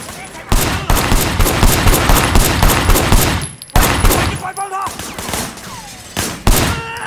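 Rapid bursts of gunfire ring out in the open-world action game Sleeping Dogs: Definitive Edition, loud and dense for several seconds, broken by a brief pause before more shots follow.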